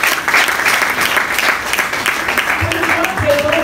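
Audience applause at an event honouring a lycée prize-winning novel, dense and steady clapping from many hands throughout, with some voices and murmurs mixed in near the end.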